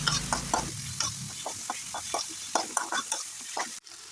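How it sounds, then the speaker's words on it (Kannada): Tomatoes with turmeric fry in oil for a garlic onion rice bath, a soft sizzle under repeated scraping and clicking stirs of a utensil against the pan. "ಟೊಮೆಟೊ ಹಾಕಿ ಸ್ವಲ್ಪ ಫ್ರೈ ಮಾಡ್ತೀನಿ"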